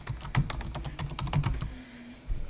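Typing a password on a computer keyboard gives a quick run of light, close key clicks in an uneven rhythm, with a brief pause before a final tap.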